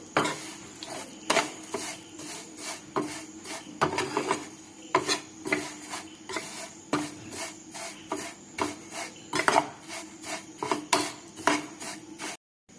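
Ingredients for payasam are lightly roasted in a pan, with a steady series of scraping, rubbing strokes of a spoon against the metal, close and rhythmic throughout.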